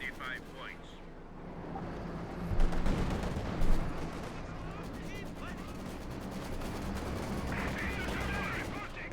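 Distant rattling bursts of machine gun fire and scattered explosions in a Company of Heroes 2 battle, faint and muffled beneath a steady wash of battlefield noise, with talk over it.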